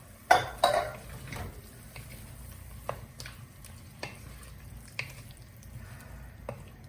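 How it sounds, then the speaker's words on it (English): A spoon stirs a pot of sweet potato, lentil and tomato dhal, giving a few sharp scrapes and knocks at first and then sparse soft clinks over a faint low simmer. "Mix it all through."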